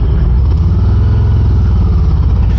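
A Harley motorcycle under way, its engine a loud, close, steady low rumble with a rhythmic throb that holds throughout.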